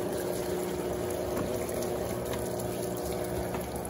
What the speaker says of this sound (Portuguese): Ela também está jogando água por trás do cesto na válvula limpeza do tanque.